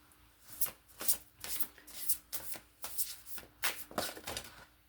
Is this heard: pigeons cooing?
no